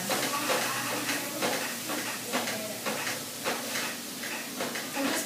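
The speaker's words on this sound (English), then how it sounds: "I'm just breaking up the lamb as I saute it" Ground lamb sizzles steadily in a pan over moderate heat while being broken up and browned, a continuous close frying hiss with occasional scraping and stirring clicks, no voices.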